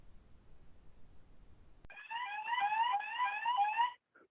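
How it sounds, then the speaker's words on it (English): Electronic alarm of a heuristic temperature monitoring system, set off by a person with a warm forehead: a loud, repeating warbling beep pattern that starts abruptly and sounds steadily for about two seconds before cutting off, after a quiet background hum. "So you heard the audio alarm,"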